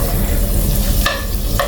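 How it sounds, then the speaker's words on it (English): Leftover seasonings saute in melted butter with a loud, steady sizzle, broken by two brief scraping stirs near the end. "So we're gonna be sauteing these in the butter a bit"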